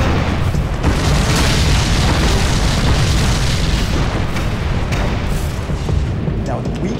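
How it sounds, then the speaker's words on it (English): Tank main gun rounds impacting at once, a loud sustained rumbling blast of boom and explosion filling the whole span, dense and heavy with no clear pauses. "9 tank main gun rounds impact simultaneously"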